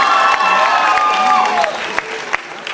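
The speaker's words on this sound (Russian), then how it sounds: "спасибо вам за ваши теплые и искренние аплодисменты" Dense audience applause fills the hall after a lively student dance performance, steady clapping with scattered cheers, tapering off into a few isolated claps near the end.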